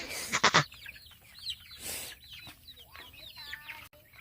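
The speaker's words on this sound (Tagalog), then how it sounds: "magpakain ng mga manok ko" Chickens cluck and chatter up close while being fed, several birds overlapping, with a few rustling scratches and scattered grain-like rattles.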